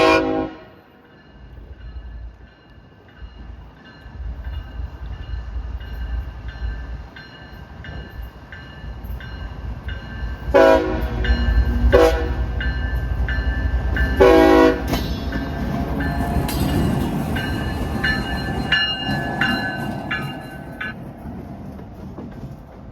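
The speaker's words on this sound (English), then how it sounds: "Now he's backing up on track 4, going back into the yard" A freight locomotive backs up on track 4 into a Plant City rail yard while switching, with a long rumbling diesel drone, wheel squeal and clanks, and several loud multi-tone horn blasts sounding fairly close.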